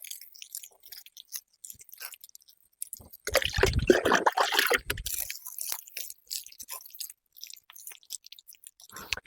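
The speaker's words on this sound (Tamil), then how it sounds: "சாணி போட்டோம்ல அதுக்கு மேலே அந்த தண்ணியை தெளி நினைக்கிறேன் பாருங்கள்" Water is sprinkled over cow dung on a brinjal field in a burst of spattering, crackly droplets, with quieter scattered drips before and after.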